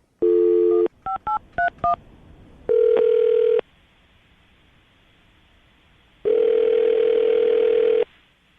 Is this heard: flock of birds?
no